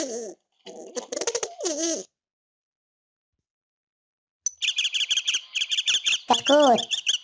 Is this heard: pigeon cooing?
yes